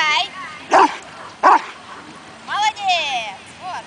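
A dog gives two sharp, close barks followed by a few whimpering, yelping whines, with short pauses between them in a quiet room.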